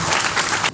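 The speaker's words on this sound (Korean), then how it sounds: "아, 박수 한번 주세요." An audience at a Daejeon citizens' concert bursts into a short, loud round of applause that cuts off abruptly near the end, leaving quieter room sound.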